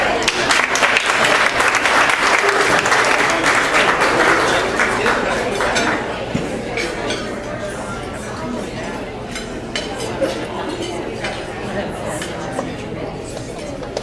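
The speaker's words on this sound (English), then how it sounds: "Clap again, right there." An audience claps at an awards lunch, with loud, sustained applause that is strongest at first and eases slightly. Background chatter and faint clinks of dishes and cutlery sit under the clapping.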